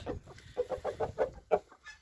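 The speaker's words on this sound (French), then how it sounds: "Donc là on a le coq." A rooster and hens cluck in a quick series of short, soft calls, close by, with brief pauses between bursts.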